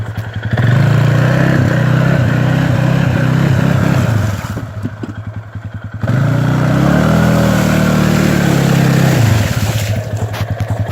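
An Arctic Cat 450 ATV engine revs loud and steady with a spinning tire whirring, the throttle easing off briefly midway before climbing back to a strong sustained roar.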